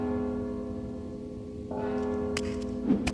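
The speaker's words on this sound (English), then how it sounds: "Don't you hear the bell?" Bell ringing in the stealth video game Mark of the Ninja, a sustained tonal chime over a steady game ambience, swelling louder partway through with brief sharper accents near the end.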